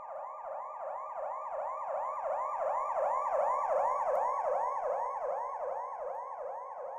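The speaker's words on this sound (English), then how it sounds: "The Doppler shift can be heard as change of pitch of a passing ambulance siren." Passing ambulance siren in a steady, loud wailing cycle that repeats many times, with a slight pitch change as it goes by and faint road traffic beneath it.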